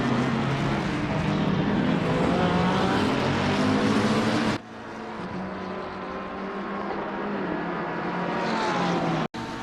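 Race car engines in a racing video game scream at high revs, a loud continuous whine that shifts pitch with gear changes, briefly drops off, then resumes with another car's engine tone.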